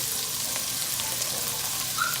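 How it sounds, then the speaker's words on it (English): Steady, crackling sizzle of potatoes frying in a hot pan, a continuous bright hiss with small pops, close and fairly loud, no talking. "You hear that sizzle?"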